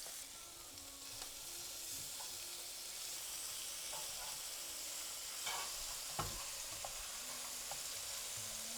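Small marinated chicken pieces fry in a pan with a continuous, fairly quiet sizzle and hiss, broken by a few faint clicks and taps, with no voices.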